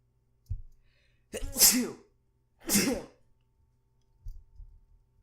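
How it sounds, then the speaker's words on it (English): Two sharp, close sneezes about a second apart, with a soft breath or sniff before them and a quieter rustle afterward. "Oh god, I hate sneezing."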